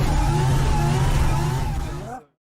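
Volvo 740 drift car at Silverstone during a Gas on Track drifting competition, its engine held at a loud, steady high rev with harmonic tones rising slightly before cutting off abruptly near the end.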